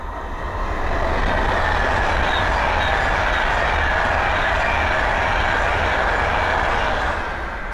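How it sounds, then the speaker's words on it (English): An Avanti West Coast Class 390 Pendolino train passes at Linslade on the West Coast Main Line, a steady loud rushing roar that builds quickly and holds for several seconds before easing slightly. "the next train to pass by is an Advantage West Coast Class 390 Pendolino from Liverpool Line Street to London"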